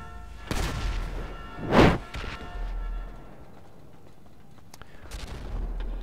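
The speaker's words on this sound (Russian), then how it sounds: "прекращать стрелять, у меня здесь машина. Прекращать взрывать." GTA Online game gunfire and explosions come in a few separated bursts, one loud booming blast near the middle and softer thuds and shots around it, with a voice talking at times.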